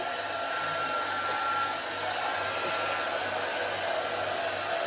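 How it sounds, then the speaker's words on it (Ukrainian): A hair dryer blows steadily, a loud continuous whooshing hum that holds nearly unchanged throughout, with no one speaking. "Відібрав у мами фен."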